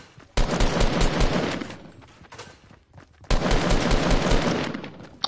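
Rapid automatic gunfire in a first-person shooter game, two loud sustained bursts of rattling shots separated by a brief lull, close and harsh with no talking.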